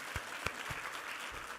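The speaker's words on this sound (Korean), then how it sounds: "우리 하나님께 감사와 영광의 박수 올려드리겠습니다" Congregation applauding during a Korean Sunday worship service, a short burst of clapping with a few distinct louder claps standing out at the start, moderately loud and without speech.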